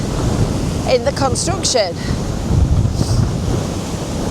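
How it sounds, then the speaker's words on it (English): Large waves crash against a sea wall below the cliffs at Norbreck and Bispham on a very windy day, with heavy wind buffeting the microphone and a person briefly talking over the roar. "there's massive waves going up"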